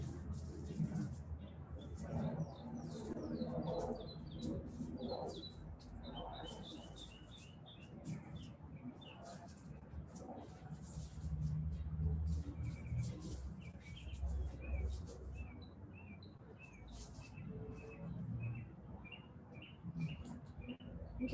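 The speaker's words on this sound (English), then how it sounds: "You just let the song of the birds deepen your parasympathetic response." Small birds chirp and tweet outdoors in Miami during a yoga session, their bright calls scattered through the whole stretch over a steady low background rumble.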